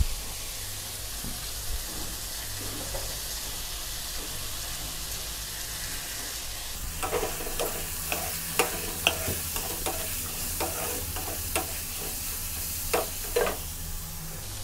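Shrimp are stir-fried with Chinese sausage in its rendered oil. A low, quiet sizzle jumps to a louder, crackling fry partway through, with repeated close scrapes and clatters of the spatula against the pan.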